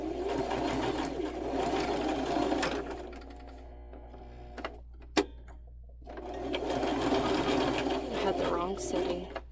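A sewing machine stitching craft items runs in two bursts of fast, even mechanical whirring close by, separated by a quiet pause with a brief click, and no voices are heard.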